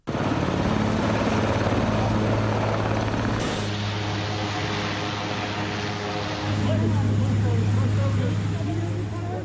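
Rescue helicopter flying over a flood-hit area in Bozkurt, Kastamonu, its steady rotor drone and engine roar loud and continuous throughout, with a slight shift in tone partway through.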